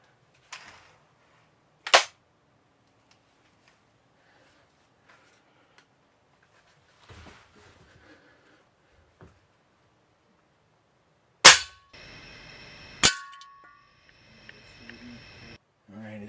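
A Ruger Air Hawk Elite II air rifle fires with a sharp, loud crack, and a few more isolated pops and snaps come through amid long quiet gaps.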